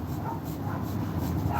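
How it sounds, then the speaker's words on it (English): A dog barks during a live art stream, set off by a radio that has just gone off. The yips and whimpering barks come steadily and sound muffled and somewhat distant under a noisy, hissy background. "Come on, dog. Now you don't do all this barking usually"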